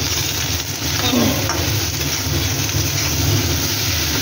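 Soya chunks fry with salt in a pan, giving off a steady, fairly loud sizzle over a low constant hum, with faint stirring scrapes now and then.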